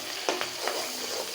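Spices fry in a pan with chopped onion, salt, turmeric and chili, a soft steady sizzle with a few sharp scraping stirs of a spatula and no talk.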